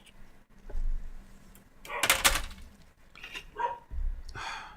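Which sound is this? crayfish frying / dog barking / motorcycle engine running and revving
dog barking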